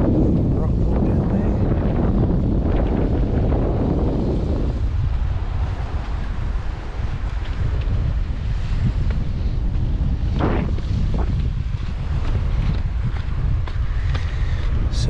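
Strong wind buffets the microphone continuously on an exposed coastal stretch of the Eyre Peninsula national park, a loud, rumbling roar with faint voices now and then.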